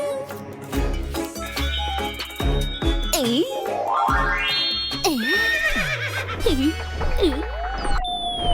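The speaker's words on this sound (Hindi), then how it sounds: "घोड़े पे जाऊंगा तो टाइम लगेगा," A cartoon horse whinnies in bouncy, warbling bursts amid springy boing effects and playful music, with a cartoon voice chattering briefly.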